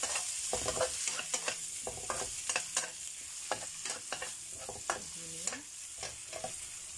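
Seasoning paste with fermented black beans sizzles quietly in a frying pan while a utensil scrapes and clinks against it in irregular stirring strokes, close by.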